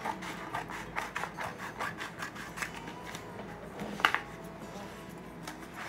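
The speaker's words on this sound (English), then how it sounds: "I'm gonna cut the excess print away." Scissors snip through excess paper print in a crafting project, a close series of rhythmic rubbing, crisp cuts repeating steadily, with no voices.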